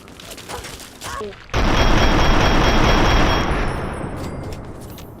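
Gunfire and a heavy blast in the video game Fallout 3. A sustained roaring volley follows a short stretch of quieter shots and rumbles, loud and close, then slowly fades.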